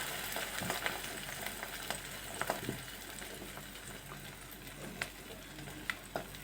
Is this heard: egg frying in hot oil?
yes